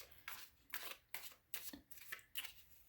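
Tarot cards are shuffled in a quiet series of six or seven quick riffling bursts, each crisp and close, with short pauses between them.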